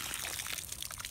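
Water discharges from a 1.5-inch fire hose during a hose changeover, a brief, fairly faint splashing pour with bright trickling spatter and no voices.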